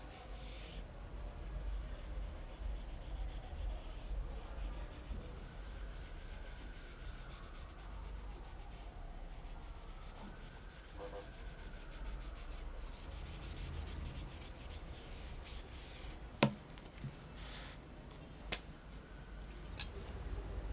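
Steady hand sanding of wooden knife handle scales between metal bolsters, a continuous soft rubbing rasp in a quiet workshop, with a few small taps near the end.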